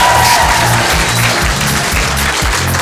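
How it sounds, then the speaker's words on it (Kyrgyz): A contest audience claps to pick a winner, loud, dense applause that holds steady from start to finish, with a low hum of crowd and musical tones underneath. "Азыр болсо силердин кол чабууларыңар менен жеңүүчүнү аныктап көрөбүз."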